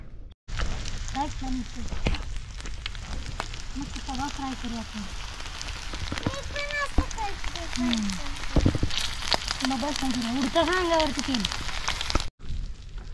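Four fish pieces frying in freshly added oil, a steady crackling sizzle running throughout with someone talking over it.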